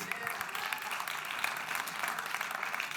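A trade-fair audience at an entrepreneurship expo applauds a man during a live crowdfunding event, a brief spell of dense, moderately distant clapping that stays steady from start to finish.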